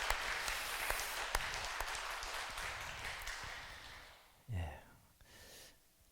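A church congregation applauds at the close of a Sunday sermon, a steady, moderately faint patter of clapping that fades out, followed by a brief breath or voice.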